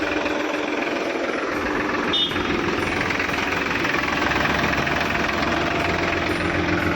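A tractor's diesel engine runs steadily and loudly up close, a continuous rumbling drone with a rough, knocking texture throughout.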